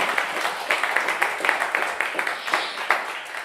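Applause from a live radio studio audience for a bluegrass-style band, individual claps distinct and fairly close, a modest crowd clapping steadily through the brief stretch.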